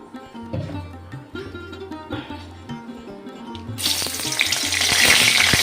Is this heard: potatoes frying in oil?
yes